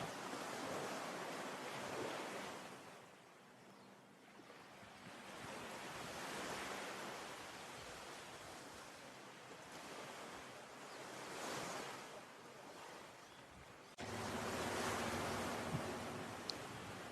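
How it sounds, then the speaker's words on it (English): Surf rolls onto Princess Margaret Beach on Bequia in broad, washing swells, a steady rushing roar that rises and falls over several waves, with some wind buffeting the microphone. "Here we are already at Princess Margaret Beach."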